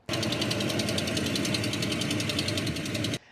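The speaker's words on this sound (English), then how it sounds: "make sure you listen for the distinctive Hemi tick" A Hemi V8 engine in a used truck idles steadily with a rapid, even ticking running throughout, close and constant until it cuts off abruptly.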